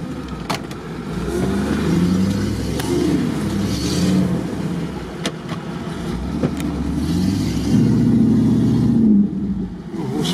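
Off-road 4x4 with its muffler knocked off, engine loud and close: a raw, rough rumble that rises and falls through repeated revs, with a few sharp knocks and clunks between.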